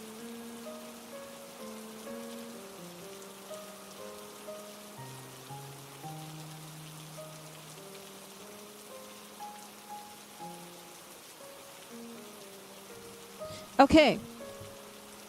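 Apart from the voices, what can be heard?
rain sound effect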